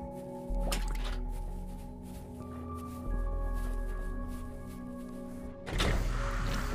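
Wet squishing drips and thuds from a pump oozing blue goop in the video game Vessel, set over steady humming machinery tones, with louder splatters near the start and end.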